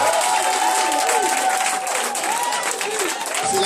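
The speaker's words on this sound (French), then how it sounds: "est-ce qu'on peut acclamer Jésus?" A church congregation at a praise and worship service applauds and cheers together, a dense, steady wash of clapping and raised voices filling the room at full level throughout.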